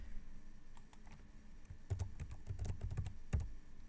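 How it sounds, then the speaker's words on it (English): Someone types a surname on a computer keyboard, a faint, irregular run of light key clicks that grows denser toward the end, with no talk. "So you type in the surname, the name of the researcher,"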